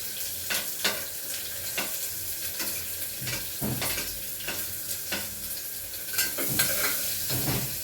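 Chopped onion frying in hot oil spiced with cumin, fennel and asafoetida for a pulao, a continuous sizzle with periodic scraping and stirring clicks of a spoon against the pan, close up and without speech.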